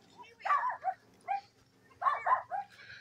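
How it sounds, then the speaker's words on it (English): Dogs barking in a state park, a series of short barks and yips in two bursts at moderate distance, with faint voices in the background. "Dogs bark."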